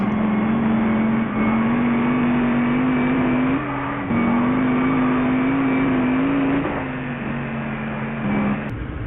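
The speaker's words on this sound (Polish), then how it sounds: "Dodge Charger Super jakże lekko ślizgał się po zakrętach." A Dodge Charger Super engine holds a loud, steady roar with shifting pitch, as if sliding through corners, continuous and close.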